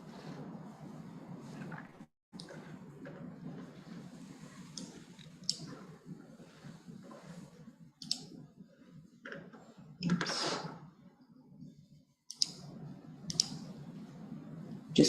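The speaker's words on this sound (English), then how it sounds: "Just clicking away here." A computer mouse clicks sparsely and softly, a few isolated clicks against a faint steady hum in a quiet room, with no speech.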